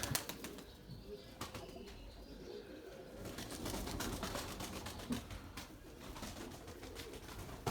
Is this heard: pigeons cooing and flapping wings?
yes